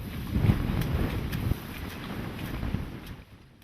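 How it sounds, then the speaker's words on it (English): Strong headwind buffeting on a river during a canoe expedition, low rumbling gusts with a few soft knocks, steady and fairly quiet throughout. "A strong southerly wind has persisted, but instead of pushing them, it's now hitting them straight on."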